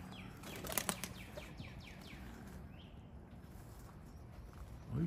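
A racing pigeon arrives at its loft, wings clapping and flapping in a quick burst near the start, then fading to quiet outdoor ambience with faint chirps.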